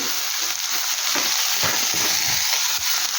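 Tomatoes and long chillies fry in a pan, a loud, steady sizzle with soft stirring scrapes throughout and no talking.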